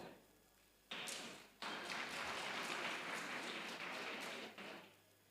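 An audience applauds at the City of Johannesburg launch of its citywide Integrated Development Plan, a faint, steady patter of clapping that swells after a second and holds for several seconds.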